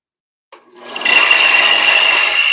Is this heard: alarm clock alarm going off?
no